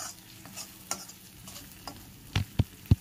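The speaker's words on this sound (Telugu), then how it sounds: "మిక్సీ పట్టి పక్కన పెట్టుకున్న పచ్చిమిరపకాయల పేస్ట్ని కూడా ఇందులో వేసుకుని వీటిని బాగా వేయించుకోవాలి" Onions and green chilli paste being fried and stirred in a pan for a carrot dish: soft low sizzle with a few scraping stirs and sharper spatula knocks toward the end, close, no talk.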